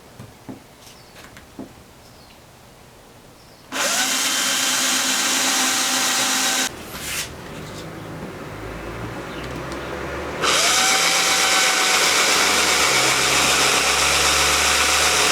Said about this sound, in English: then all you got to do is start drilling.